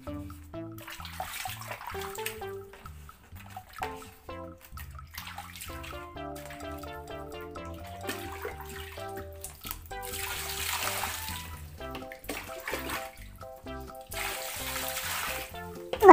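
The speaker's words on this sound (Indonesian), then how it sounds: "Kita siram saja ya," Water splashes and trickles in uneven pours over a toy sand truck being rinsed, close and fairly soft, with background music playing throughout.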